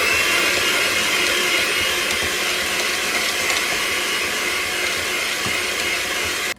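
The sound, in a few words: electric hand mixer mixing banana bread batter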